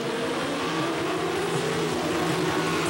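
Racing motorcycles accelerate off the grid at a race restart at Road Atlanta in 1999, producing a dense, steady, loud engine roar of many bikes together, with no talk.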